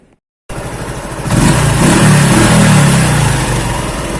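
A car engine runs loudly and close after a long drive home, starting abruptly and swelling into a steady revving drone that holds without any talk.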